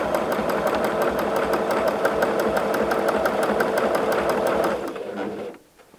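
A sewing machine runs a zigzag seam through fabric, appliquéing a quilted trapunto hedgehog with creative fleece. The stitching whirs steadily and rhythmically for about five seconds, then slows and stops, leaving near silence.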